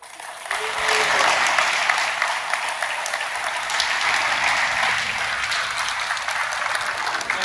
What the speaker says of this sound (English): I think gets them another round of applause